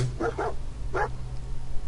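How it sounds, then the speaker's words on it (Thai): A dog barks in Fallout 4, a couple of quick close barks followed by a single louder one, then quiet background hum. "มันเห่าจัง"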